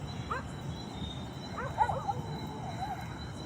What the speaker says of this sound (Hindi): देखिए फिर से कुत्ते भौंकने की आवाज़ आ रही है